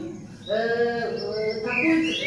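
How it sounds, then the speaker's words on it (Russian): Birds sing in a forest setting, a few clear melodic calls and chirps rising over a quiet background, moderately close and continuous through the short stretch. "птицы поют"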